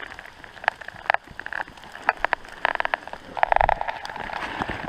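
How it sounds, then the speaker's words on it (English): Hail falls outdoors during a Colorado elk hunt, a dense patter of ice pellets hitting the ground and a hiker's pack, with irregular sharp taps that grow heavier toward the end. "We are in a hailstorm."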